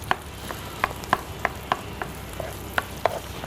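Boiled potatoes are stirred and fried in a pan for aloo ka halwa, with a soft sizzle underneath and a series of crisp, irregular spatula taps against the pan, about a dozen knocks in a few seconds.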